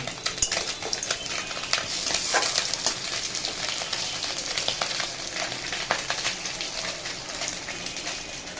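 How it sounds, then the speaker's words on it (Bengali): Small puti fish frying in a pan on a gas stove, a busy crackling sizzle with frequent sharp metallic clinks of a utensil against the pan, no voices. "এই যে এখানে পুঁটি মাছ ভাজতেছে"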